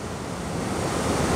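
The Ganga river rushes with great force, a dense, steady roar of churning water that swells slightly toward the end, loud and close with no voices.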